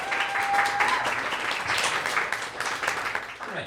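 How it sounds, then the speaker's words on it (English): An audience at a poetry slam breaks into steady, dense applause for a poet, the clapping loud and continuous throughout. "Applaud the poet, applaud the poetry"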